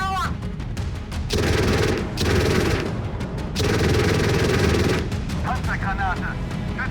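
Machine gun fire from a Marder 1 infantry fighting vehicle during a night counter-attack in the PC game Gunner HEAT PC: three long, loud, sustained bursts with brief gaps. A voice talks before the first burst and after the last.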